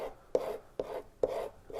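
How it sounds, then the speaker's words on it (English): Steel chisels used for printmaking are honed in slow strokes on a piece of leather. The soft rasping rubs come quietly and close, about three even passes with brief pauses between them. "I use a piece of leather to keep sharpening them while I work in between, just honing them"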